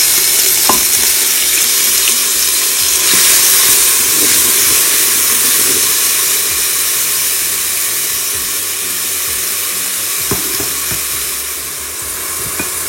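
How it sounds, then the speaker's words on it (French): Half an onion sizzles in hot olive oil inside a Cookeo multicooker, a steady loud hiss and crackle that goes on without a break, with a few small pops. "Une fois que l'huile est chaude, on ajoute la moitié de notre oignon."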